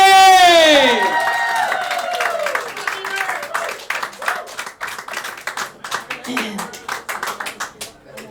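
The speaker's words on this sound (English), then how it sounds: "Ladies and gentlemen, start clapping all around here." A live stage audience claps and cheers loudly, applause swelling near the start then settling into steady scattered clapping, with a voice singing over it early on.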